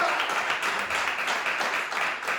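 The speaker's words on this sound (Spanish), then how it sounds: "Denle un aplauso a Jesucristo." Church congregation applause during a sermon, a steady wash of clapping that stays even and fairly loud throughout, with a faint murmur of voices underneath.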